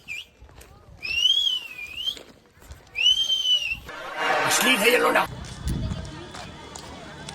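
A person whistles two wavering, sliding tunes with a pause between them, followed by a burst of rustling and shuffling noise.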